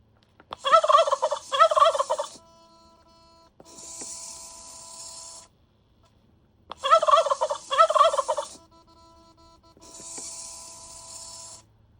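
A recorded turkey gobble sound effect plays twice, each a loud rapid gobbling burst followed by a steadier rattling tail, separated by silence and heard alone.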